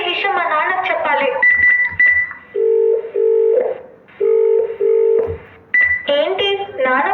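A telephone number is dialled with a quick run of tonal keypad beeps, then steady ringback tones pulse in long repeated pairs, all loud and close, with another burst of dialing tones at the end.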